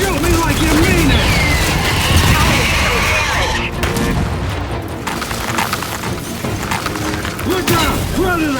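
Sustained gunfire and booming explosions from the video game Gears 5 Horde mode rumble loudly throughout, with in-game character voices shouting over the combat.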